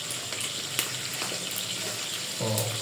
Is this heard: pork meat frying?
yes